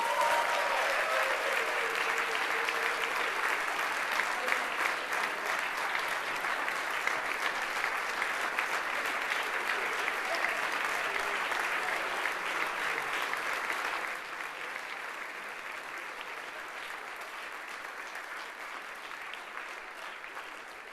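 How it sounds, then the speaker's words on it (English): A crowd at a Nevada press corps stage show claps in a sustained round of applause, dense and even for about fourteen seconds before dropping to a softer, thinning patter that continues to the end. "Can we get a round of applause for your humble Nevada press corps?"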